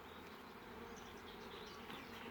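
Steady, dense buzzing of many honeybees, continuous and fairly close, with no voices.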